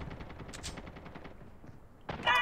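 Rapid automatic gunfire from an M4 rifle in the mobile shooter Call of Duty Mobile, a close burst of quick shots that thins out, then a sharper louder burst at the end.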